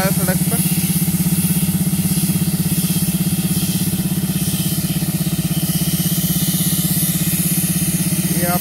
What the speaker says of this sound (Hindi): ये ट्रैक्टर से रोड की सफाई हो रही